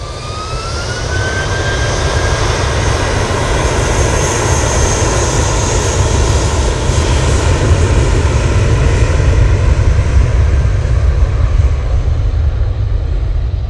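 An Emirates airliner touches down at Manchester Airport, a loud sustained jet roar with a rising whine and heavy low rumble throughout.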